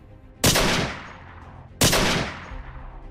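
Two loud gunshots in a film scene where a robber shoots a couple in an alley, each a sharp close blast with a long ringing decay, about one and a half seconds apart.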